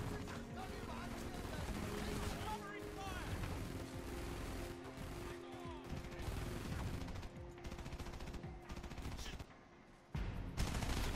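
Enemy gunfire in Frontlines: Fuel of War, with rapid automatic bursts and scattered shots crackling over game noise throughout, while someone talks over the shooting.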